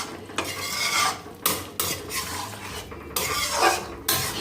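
A vegetable curry with ghee is stirred in a pot, each scraping spoon stroke over the bubbling sizzle coming in bursts roughly every second, close and clear, with no speech.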